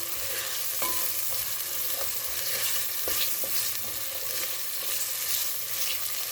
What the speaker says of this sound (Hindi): तो इसको हम साथ ही इससे अच्छी तरह से फ्राई कर लेंगे।